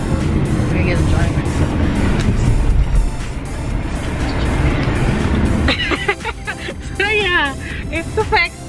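A moving car's steady engine and road rumble run throughout, with people talking over it and a voice rising toward the end.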